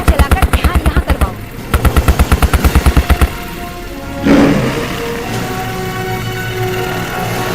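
Rapid machine-gun bursts fire from a National Guard helicopter in a giant-monster horror film, loud and rhythmic for about three seconds, followed by a whooshing impact and a lingering low rotor hum.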